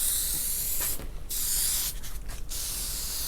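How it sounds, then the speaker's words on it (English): Adhesion promoter is sprayed from a can onto a car headliner board in a box Chevy, producing a loud, close, continuous hiss broken by two short pauses between bursts, with no talking. "Now I'm gonna turn it over. Spray this side here."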